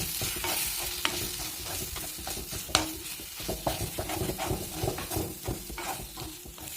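Onion, tomato, green chili and chili and coriander powders sizzle in a pan while a spoon stirs them, a steady close frying hiss with repeated scraping strokes, no talk.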